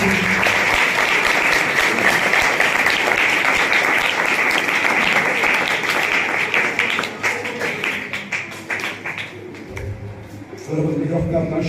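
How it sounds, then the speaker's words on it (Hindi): A church congregation at a sermon on the Second Coming bursts into loud, sustained applause that fills the space for several seconds, then thins and fades as a voice begins to come through near the end. "क्या सब जोर से ताली देंगे?"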